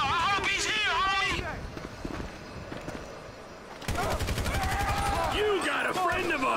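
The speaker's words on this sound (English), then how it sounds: "Sniper fire!" Rapid gunfire in GTA 5 breaks out after a pause, a fast, even string of loud shots continuing to the end, with voices shouting before and over it.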